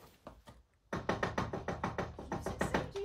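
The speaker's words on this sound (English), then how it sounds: "I'll try knocking." Knocking on a shut door: a quiet tap or two, a pause, then a loud run of about a dozen sharp knocks in steady rhythm, close and alone with no talk.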